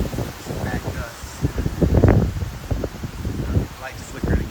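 Gusty wind from Hurricane Francine rushes and rustles through leaves at a bee yard, swelling and fading in uneven bursts, loudest near the middle of the stretch.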